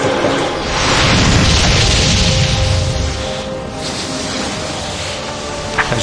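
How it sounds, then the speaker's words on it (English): In a cutscene from the video game Icewind Dale Enhanced Edition, a loud, sustained explosive roar swells and rumbles for several seconds before slowly fading. "an explosion of white light engulfed the battlefield"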